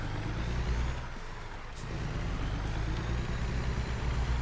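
A truck in American Truck Simulator idles and creeps in reverse, a steady low diesel drone with a faint hiss partway through, even and close throughout.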